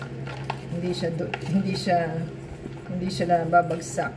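Chocolate chips and walnuts folded into banana loaf batter with a utensil scraping and clinking around a bowl, close and steady, while someone talks over it.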